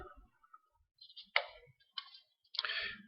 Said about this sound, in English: Hook the tape measure on one end, extend out the tape measure